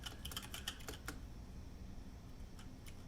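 Typing on a mechanical keyboard fitted with lubed Zelio 62-gram switches: a quick burst of crisp, quiet keystrokes, then sparser scattered presses over soft background hiss.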